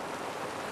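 Rain falls as a steady, faint hiss of drops, an even wash of sound with no distinct pattern over a brief moment.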